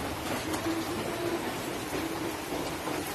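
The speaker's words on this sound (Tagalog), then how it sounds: "malakas ang ulan, oh" Heavy rain falls in a steady, dense hiss, loud and close, with a faint low hum underneath and no voices.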